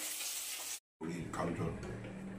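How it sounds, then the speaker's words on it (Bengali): Fish frying in a pan for a Bengali home meal, a soft steady sizzle with stirring scrapes, broken by a brief cut to silence before the frying resumes. "ওইদিকে এখন মাছ ভাজা বসিয়েছি"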